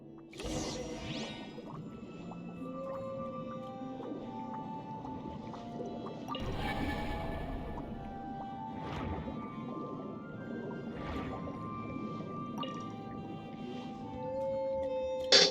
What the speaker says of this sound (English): We can use the conch to send out sounds and analyze the returning sound waves